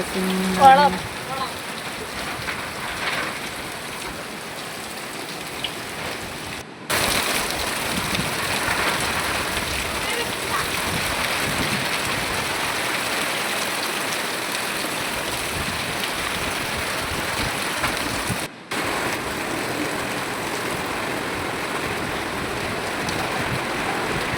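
Heavy rain falls steadily and loudly for the whole stretch, a dense, continuous hiss of drops striking surfaces nearby with no break in intensity.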